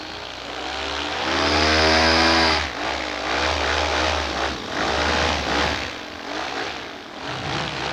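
Paramotor engine with propeller revving up close by, a loud droning buzz that rises in pitch, then surges and fluctuates as the throttle is worked.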